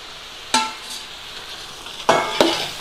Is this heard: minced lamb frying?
yes